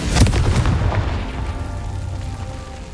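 A Confringo fire spell bursts in Hogwarts Legacy: a loud, close explosive boom with a few sharp cracks, then a rumbling decay that fades over a couple of seconds.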